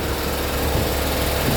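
A turbocharged Honda S2000 on a dyno at full throttle, a loud, steady, high-pitched engine roar filling the clip without letup.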